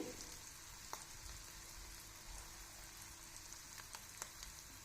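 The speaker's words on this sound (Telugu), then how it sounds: "ఇంగువ వీటిని దోరగా వేగనివ్వాలి" Quiet, steady sizzling of asafoetida frying in hot oil, with a few faint crackles and pops.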